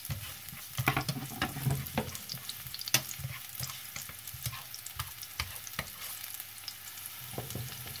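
Shallots and garlic frying in a pan, a quiet steady sizzle broken by intermittent stirring scrapes and taps, close and alone without any voices.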